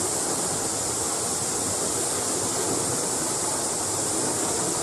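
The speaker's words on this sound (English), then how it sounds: "Sorry about the noise behind me, it's a beautiful waterfall." A New Zealand waterfall rushes steadily nearby, a loud, unbroken broadband roar of falling water that holds constant throughout with no voices.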